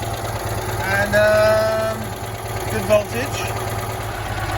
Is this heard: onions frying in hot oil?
no